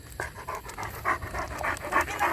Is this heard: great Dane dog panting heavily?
yes